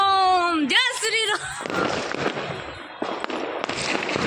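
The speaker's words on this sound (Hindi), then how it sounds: "देखो पटाखे चल रहे हैं चारों तरफ" Diwali firecrackers and fireworks going off all around a neighborhood, crackling bursts and pops after a loud whistling rocket at the start, continuing as a dense noisy barrage.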